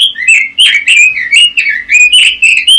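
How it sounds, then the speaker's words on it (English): A New Zealand robin calls close by and loudly, giving a rapid series of clear, whistled chirps that rise and fall in quick bursts, with no other sounds around. "New Zealand robins."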